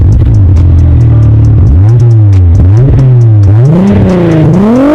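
VW Golf VR6 narrow-angle six-cylinder engine revving loudly and continuously up and down, the pitch rising and falling with each throttle blip.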